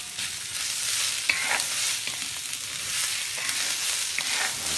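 Food fries and browns in a pan with a continuous bright sizzle, punctuated by repeated scraping strokes of a utensil stirring it, close and steady throughout.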